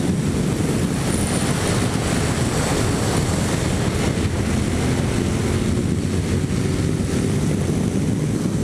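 A Honda NC750X DCT motorcycle accelerates on an open stretch of road, a loud, constant engine roar mixed with heavy wind rush throughout, with no speech.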